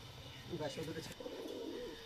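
Pigeons coo softly in a loft, a faint low murmuring burble that carries on quietly throughout.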